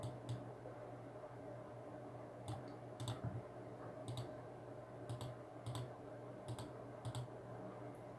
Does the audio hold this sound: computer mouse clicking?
yes